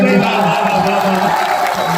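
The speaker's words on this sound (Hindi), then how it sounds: "बिहार के नाम एक बार हाथ उठा करके ताली बजाइए" A large audience at a mushaira poetry gathering in Tajpur, Samastipur, Bihar claps and cheers loudly and close. The steady, dense roar of hands is mixed with shouting voices.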